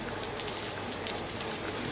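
Light drizzle patters steadily on surfaces in Mumbai, a soft, even hiss of rain with no voices.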